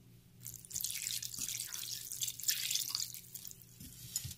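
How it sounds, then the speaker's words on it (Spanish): Juice from fifteen limes trickles and splashes onto raw shrimp for ceviche, a soft close-up liquid pour with faint drips in a quiet kitchen. "Bueno, pues aquí ya tenemos el jugo de los 15 limones. Ahora se lo vamos a agregar al camarón."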